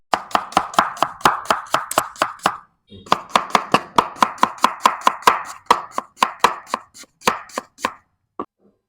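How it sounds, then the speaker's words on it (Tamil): A knife chops through an onion on a cutting board in quick, sharp, evenly spaced strokes, a brief pause near the middle, then the chopping resumes and slows to a few scattered final cuts. "இவர் வெங்காயம் உரிச்சு பாத்துருப்பீங்க அதை கட் பண்ணி பார்த்திருக்கீங்களா"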